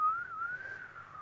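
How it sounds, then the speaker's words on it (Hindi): A person whistles a single wavering, thin tone that bends slightly up and down for about a second, faint and alone against a quiet background. "नहीं, मैं सीटी बजा रहा हूँ।"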